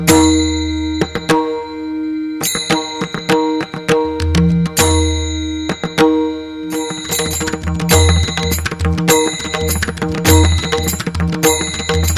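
A subscribe-bell sound effect rings out in bright, metallic dings, repeated in quick clusters and bursts throughout, loud and clear, with no talk.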